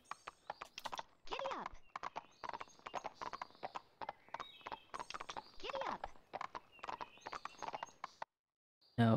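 Galloping horse hooves in the video game Barbie Horse Adventures, a rapid rhythmic clip-clop of repeated hoof beats, crisp and close, with occasional whinnies, then a brief silence before the sound resumes at the end.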